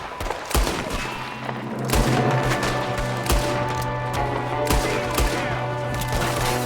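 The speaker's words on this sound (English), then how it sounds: "There's another one shooting from the window." Repeated gunshots from Red Dead Redemption 2 crack out at irregular intervals, some single and some in quick clusters, loud and near over a steady droning game backdrop.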